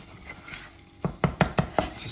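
Flour stirred into hot fat in a pan over medium heat, a soft sizzle underneath a run of five or six quick stirring scrapes close by, quiet at first and louder toward the end.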